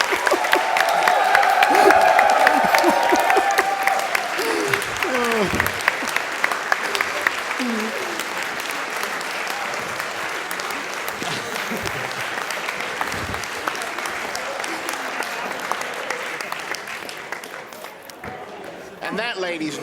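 A large convention audience at a speedrun marathon gives a standing ovation, sustained dense applause that swells loudly for the first few seconds and then holds steady with cheering voices mixed in throughout.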